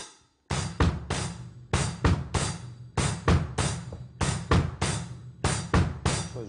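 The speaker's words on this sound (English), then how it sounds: "And then you're going to play eighth notes with your hi-hat." A drum kit plays a steady pattern of rapid double bass drum strokes in grouped sixteenth notes, with crisp hi-hat eighth notes riding on top. The playing is close, loud and regular, and no one speaks.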